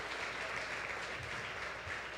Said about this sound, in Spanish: Denle una ofrenda de aplausos al Rey de Reyes y Señor de Señores.